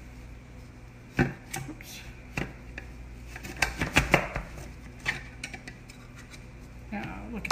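A kitchen slicing gadget cuts through food in a few sharp, crisp chops and clicks, some close together, while someone talks and briefly exclaims over the work.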